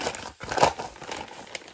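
Plastic packaging from a Crochet Society subscription box crinkles and rustles up close in a short, busy burst of crackles.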